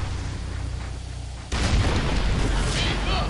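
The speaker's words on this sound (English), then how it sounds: "They can pound that Protoss stalker before it even gets close to us." Siege tanks firing in StarCraft 2: after a low rumbling background, a sudden heavy boom breaks in and rolls on as a loud, sustained blast with debris-like crackle.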